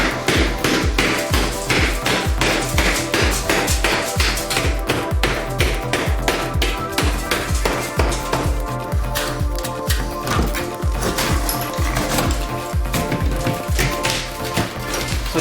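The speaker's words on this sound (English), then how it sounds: "we're gonna smash a hole in the tile right through the wall" Bathtub shower wall tile is being smashed through to open a hole in the wall, with rapid, steady hammer blows hitting hard tile continuously and loudly up close.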